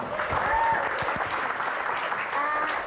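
Steady clapping from a small group in a casual indoor setting, a dense continuous patter of hands lasting the whole stretch at an even level.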